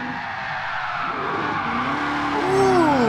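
Race car tires squeal and skid through a long drift in GT Sport, with a loud rising engine note and a sustained screech that swells toward the end.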